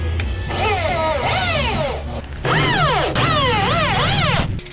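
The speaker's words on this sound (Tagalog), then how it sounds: "i-screw ko na to para dito natin papakapitin yung plywood" A power drill driving screws into a van floor to fasten plywood, in repeated bursts of whirring and rising motor pitch with short pauses between them, loud and close.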